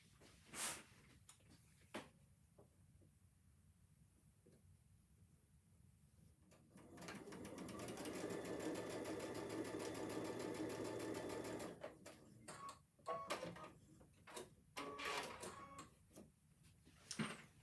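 A sewing machine stitches placemat pieces together in one steady whirring run of about five seconds, set between scattered clicks and fabric handling in a quiet room.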